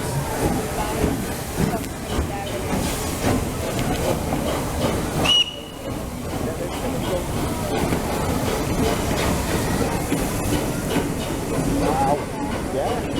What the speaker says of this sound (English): There it is, the Flying Scotsman.